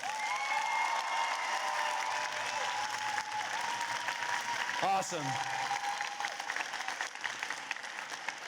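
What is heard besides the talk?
audience applause at FTC Benelux championship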